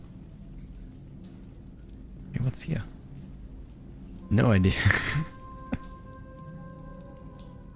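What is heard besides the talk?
rain on a tin roof in the video game Mass Effect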